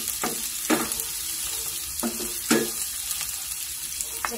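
Onion and garlic sautéing in oil in a pan, a bright continuous sizzle with several spaced scrapes and knocks of a spatula stirring, close up without talk.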